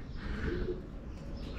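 Pigeons cooing softly at the base of a ruined church tower, faint low murmuring coos against quiet outdoor ambience.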